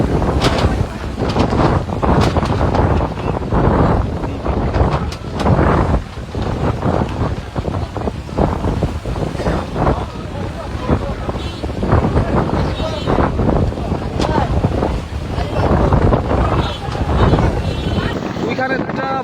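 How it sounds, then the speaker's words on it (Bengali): Strong storm wind roars over the rough Padma river during a storm, buffeting the microphone in loud, gusty bursts, with people talking over it. "দেখতেই পাচ্ছেন এখানে প্রচন্ড পরিমাণে ঝড় হচ্ছে।"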